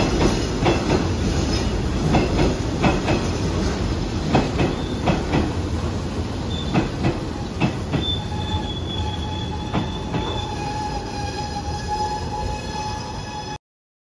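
A local commuter train rolls through a Japanese station, wheels squealing loudly with repeated rail clicks and sustained high metallic screeches, close and continuous without speech.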